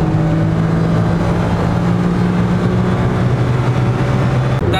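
A car from Japan cruises on a busy motorway in rush-hour traffic at 100-110 km/h, with a steady loud engine drone and road rumble and no talking.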